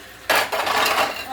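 Dishes, pots and utensils being washed at a home kitchen sink, a sudden burst of clattering and rushing water that carries on steadily for about a second, close and fairly loud, no talking.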